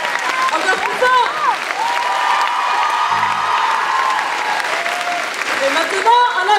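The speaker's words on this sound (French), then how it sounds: "accompagné de nos musiciens fabuleux qu'on peut applaudir très fort" An audience at a choir's end-of-season recital applauds the musicians loudly and steadily, with whoops and cheers mixed in and a voice speaking over the clapping.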